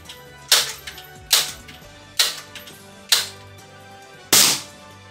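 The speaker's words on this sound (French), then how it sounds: "Donc là je tire avec appui" Five sharp reports from a Crosman air rifle fired from a rested position during sight adjustment, each a crisp, loud crack spaced roughly a second apart, with a longer pause before the last, and no talking between them.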